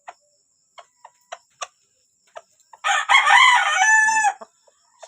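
A Yellow-legged Hatch broodcock rooster lets out one loud, drawn-out crow close by, after a run of sharp ticking clicks. No one speaks.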